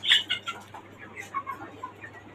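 Caged desi and tiger chickens on a rooftop farm atop a five-storey house give off a few short, moderately close clucks and calls, with the loudest burst at the start and softer bird sounds trailing after.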